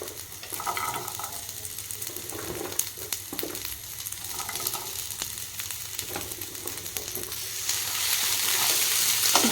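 Jhudunga beans and potatoes fry in hot oil with golden-browned onion, making a continuous close sizzle broken by stirring scrapes and clicks that grows louder toward the end.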